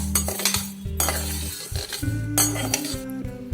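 Horse gram being dry-roasted in a hot kadai over medium flame, stirred with a metal spoon, giving a steady run of close scraping and clinking strokes against the pan; no talking.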